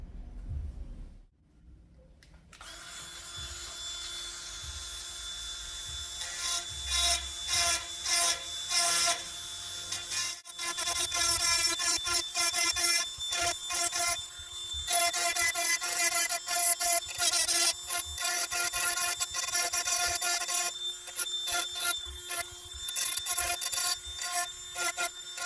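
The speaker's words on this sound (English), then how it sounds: "We're just going to cut the grooves to match the original key with a fairly rough bit." Rotary tool with a rough bit cutting grooves into a metal key, giving a close, steady high whine broken by many short rasping bursts and pauses as the bit touches and lifts off.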